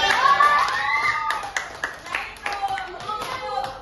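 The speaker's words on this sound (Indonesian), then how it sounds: "tepuk tangan buat Aisyah" Children in a classroom clap for a student, scattered uneven claps that thin out into separate taps, with high young voices talking and calling over them.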